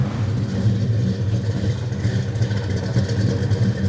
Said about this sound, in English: Come around the back of the car and listen to the exhaust.